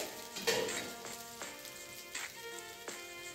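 Green chillies with coriander and turmeric sautéing in a pan for Maharashtrian kharda give a soft, steady sizzle, with a few sharper stirring scrapes and clinks at intervals and no talking.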